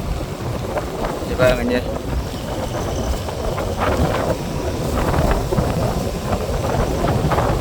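A storm wind whips coconut and palm trees during a cyclone in Jaffna. Loud, steady gusting roars and buffets the microphone throughout while someone talks briefly over it.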